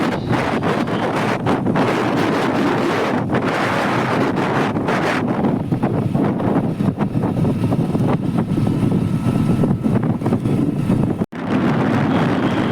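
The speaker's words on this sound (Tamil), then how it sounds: "பைபாஸில் வண்டியை ஓட்ட முடியலைங்க, அந்த அளவுக்கு காத்தடிக்குது, பைக்கே உழட்டுது" Strong wind buffets the microphone in a constant loud roar, with gusts rising and falling over the steady rush of a motorbike ride on a bypass, the wind strong enough to make the bike sway.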